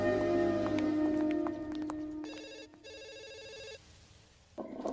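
An electronic telephone rings in a comedy film scene, sounding as two close, steady bursts of ringing in the middle, over a busy background with no other clear sound.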